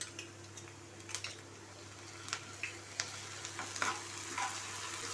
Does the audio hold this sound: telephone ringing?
no